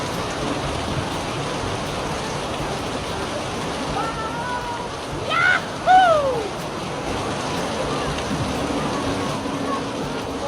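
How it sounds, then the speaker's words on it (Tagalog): Heavy rain pours down in a dense, steady hiss throughout, with a few brief higher cries or squeals rising over it near the middle. "Parang ang lakas ng ulan!"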